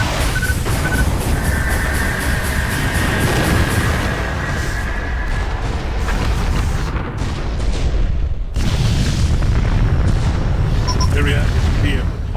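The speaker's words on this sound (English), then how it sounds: "The Tempest has been destroyed." The spaceship Tempest is destroyed in a Freespace space battle, a loud, sustained roaring explosion rumbling on for seconds with a brief dip before it surges again.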